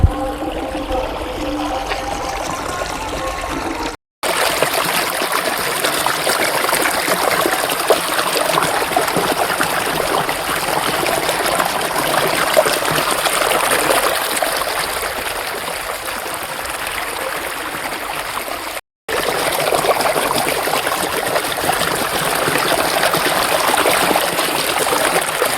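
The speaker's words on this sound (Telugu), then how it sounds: "ఇక్కడ నీళ్ళు ఉన్నాయి." Stream water at a temple flows and trickles continuously, a loud, steady rush close by that runs on alone with no voices.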